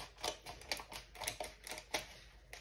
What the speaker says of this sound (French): je vais juste découper grossièrement